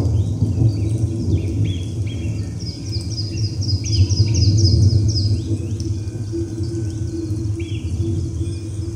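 Birds and animals call in a mountain setting, with repeated high chirps and short calls over a dense, steady bed of low rumbling ambience.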